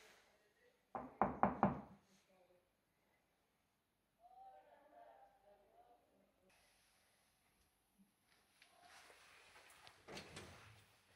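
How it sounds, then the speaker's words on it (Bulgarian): Several sharp knocks on a door in quick succession, close and fairly loud, followed by quiet voices talking nearby and some later shuffling noise. "Чукай, нищо, чукай."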